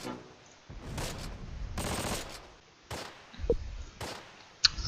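Bursts of MG34 machine gun fire from the WWII game Close Combat: Last Stand Arnhem, several short volleys spaced apart with distant crackling shots between them, no talk.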